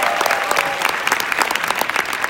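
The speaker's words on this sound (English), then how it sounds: "So give a big round of applause to Nu Skin" An audience bursts into applause for Nu Skin at a company gathering, a dense, steady wash of many hands clapping close up for the whole stretch, with no voices standing out.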